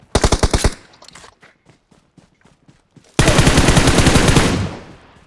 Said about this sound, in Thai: มายิงมาจากทางไหนวะเจ็บ